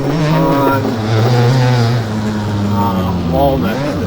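A 2003 Suzuki RM 250 motorcycle in MX Bikes on the Walnut track, its engine droning loud and close with rising and falling pitch as the throttle shifts, running steadily throughout.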